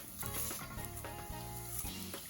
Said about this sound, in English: And then we're going to add the lentils. So let's just give that a little mix just to soften everything.